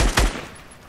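A single sharp burst of gunfire in the video game Fortnite, loud and close at first and then quickly fading into a short decaying tail.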